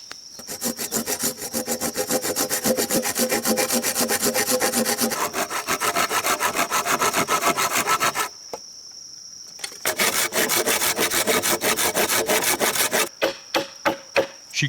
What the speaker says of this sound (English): She crouches low to trim the bamboo ends, clean the nodes, and correct uneven sections